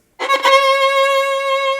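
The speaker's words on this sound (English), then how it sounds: "you'll have a very tense vibrato that sounds something like this" A single sustained bowed violin note with a rapid, tight vibrato, loud and close, holding steady for nearly two seconds.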